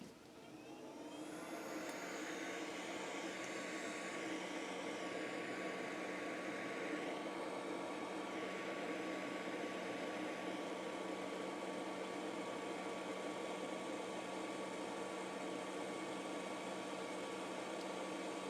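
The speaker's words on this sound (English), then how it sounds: "I need to turn on my fume extractor." A fume extractor runs steadily during desoldering on an Xbox One controller, a constant fan whir and airy hiss that starts up and holds at an even, moderate level throughout, with no voices.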